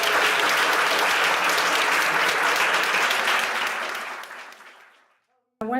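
Loud audience applause at the Johannesburg launch of the book Queer Africa 2, dense clapping that fades out over a few seconds into silence before a voice briefly begins.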